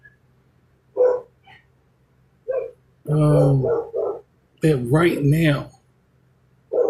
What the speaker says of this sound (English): Please excuse that dog next door.